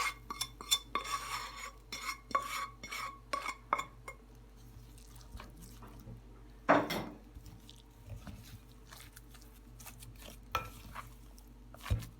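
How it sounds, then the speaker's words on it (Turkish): A spoon scrapes and clinks against a pot as fried onions are stirred into potatoes for a potato börek filling, giving irregular close taps and scrapes over a low steady hum, with one louder clatter midway. "Kavurduğumuz soğanları patatese ilave edip karıştıralım"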